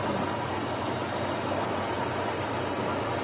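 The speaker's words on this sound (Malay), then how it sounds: "Sekarang saya dah servis carburetor, buktinya tak mati. Ni idle saya boleh rendahkan lagi timing ni." A car engine idles steadily after a carburetor service, a constant even hum with a hissing noise layer throughout and no speech.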